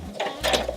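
Sewing machine stitching fabric for a wet bag, a short close burst of fast mechanical whirring and clatter that speeds up in two surges.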